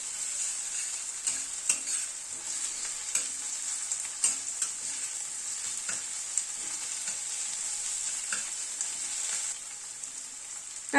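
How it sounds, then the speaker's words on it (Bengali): Crushed garlic and onion frying in a pan, a soft continuous sizzle with light scraping taps of stirring scattered throughout, quiet and steady with no talk. "রসুনটাকে দিয়ে পেঁয়াজের সাথে একটু ভেজে নেব আগে।"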